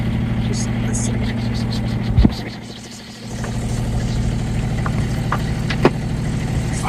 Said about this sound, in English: I have put the engine in neutral.